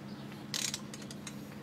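A ratchet wrench tightens a bolt on a VW 2.0 TDI engine during a timing belt job, giving a short run of close mechanical clicks over a low background hum.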